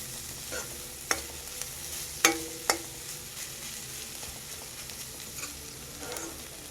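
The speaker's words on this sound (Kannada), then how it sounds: "ಕಾಯಿ ತುರಿ ಕೊತ್ತಂಬರಿ ಸೊಪ್ಪು ಹಾಕಿ ಫ್ರೈ ಮಾಡ್ತಾ ಇದ್ದೀನಿ" Grated coconut and coriander leaves fry and sizzle in a pan, with a steady hiss broken by a few sharp scraping stir clicks, close and fairly loud.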